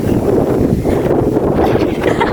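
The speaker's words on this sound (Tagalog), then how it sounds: "Ang hangin!" Strong outdoor wind buffets the microphone in a continuous loud rumble with no break, and no voices are heard over it.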